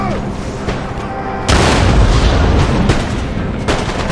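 Artillery booms on a battlefield in Empire: Total War, heavy blasts landing over a constant roar of combat, with a sharp loud report partway through and more thuds following.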